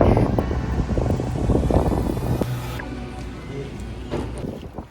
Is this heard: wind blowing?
yes